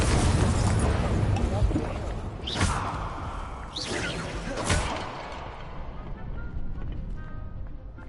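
Hogwarts Legacy video game fire spells erupt in a heavy opening blast followed by two or three whooshing flares and bursts that gradually fade, with a voice talking through the mix.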